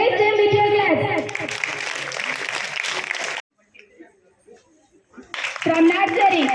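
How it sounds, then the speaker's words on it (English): Audience clapping for students at a Children's Day celebration at Alphores Techno School, Krishnanagar, Jagtial. A burst of applause runs under an announcer's voice, stops into a brief quiet, then speech resumes. "Encourage them with your claps."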